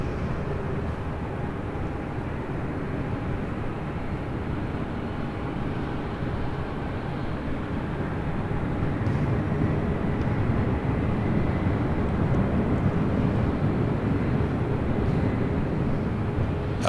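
A Delta heavy jet rolls for takeoff on runway 24 left at LAX, a steady, loud broadband engine roar that swells slightly midway and holds, with no talking.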